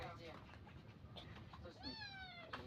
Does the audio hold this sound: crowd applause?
no